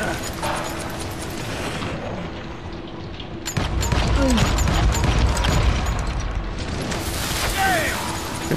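Gunfire and booming shots, including shotgun blasts, in a sawmill level of the Western shooter game Call of Juarez: Gunslinger, a dense, loud barrage that swells midway and keeps going. Game music and effects run underneath.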